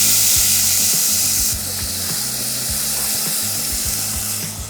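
Potatoes and shallots frying in a pan give a steady, loud sizzle throughout, with repeated low knocks that sound like a utensil scraping or stirring against the pan.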